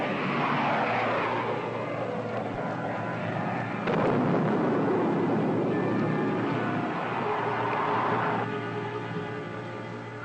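Spaceship gunfire and an explosion from a 1954 space ranger serial, a dense, loud roaring rumble with a sharp blast near the middle and a sustained engine-like drone throughout.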